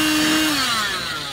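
A cheap car vacuum cleaner motor whines loudly close up, its pitch sliding as the motor changes speed over about a second, with a brief click near the end.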